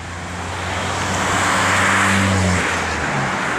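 A vehicle roars past nearby, the traffic noise swelling to a loud whoosh and then fading, with no voices.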